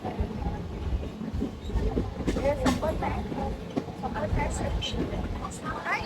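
Steady rumble and rattle of a moving train carriage, with people talking over the continuous rolling noise.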